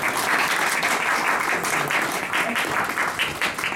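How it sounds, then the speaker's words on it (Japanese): Audience applause at a political study-session lecture in Japan, welcoming a guest speaker: dense, steady clapping from a full room, loud and continuous for several seconds with no talk over it. "じゃあ皆さんどうぞ拍手を持って。"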